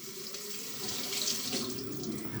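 Two tomatoes rinsed under a running kitchen tap for a homemade veggie burger, a steady soft stream of water with slight splashing shifts as the fruit is turned, no voices.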